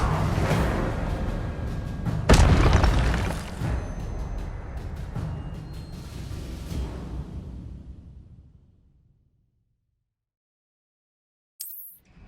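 A fire spell bursts out in Hogwarts Legacy with a sharp loud blast, then a rushing crackle that fades slowly over several seconds into silence, followed by a brief faint chime at the end.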